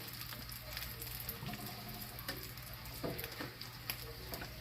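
A cheesy pizza quesadilla, folded tortilla with melting cheese, frying in a pan, giving a steady soft sizzle and crackle at low volume with occasional faint pops.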